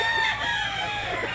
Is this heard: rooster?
yes